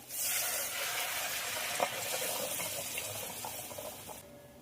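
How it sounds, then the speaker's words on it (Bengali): Hot water poured into a pan of frying spice paste for a pabda fish curry, a steady close splashing, hissing rush lasting several seconds before cutting off abruptly near the end. "এবার জল দিয়ে দেবো"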